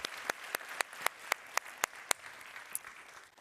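At a carbon capture, utilisation and storage forum, a conference audience applauds a panel. The clapping is faint and thin, with sharp individual claps standing out in a steady, sparse rhythm.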